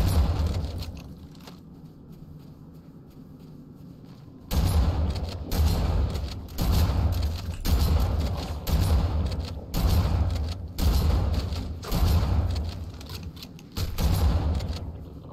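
Automatic weapon fire in Halo: Combat Evolved Anniversary, gameplay, arriving in loud repeated bursts of roughly a second each with short gaps between, following a quiet opening stretch.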